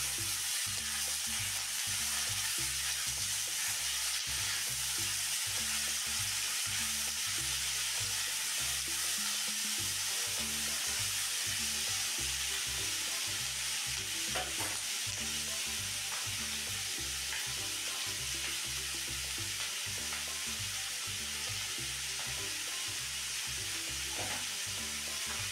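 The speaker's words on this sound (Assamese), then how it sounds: "যেতিয়ালৈকে শুকান নহয় তেতিয়ালৈকে ভাজি গৈ থাকিব" Chopped cauliflower stems and small-cut potatoes fry in a hot pan with a loud, steady sizzle, punctuated by regular rhythmic scraping and stirring throughout, with no talking.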